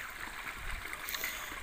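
Irrigation water flowing across a farm in the morning, a steady rushing, gurgling stream at moderate distance, continuous and fairly quiet with no talk.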